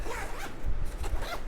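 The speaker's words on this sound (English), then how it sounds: "Get a little zipper right here." A zipper on the front organizational pocket of a 5.11 Tactical RUSH backpack gives two short, close rasping pulls.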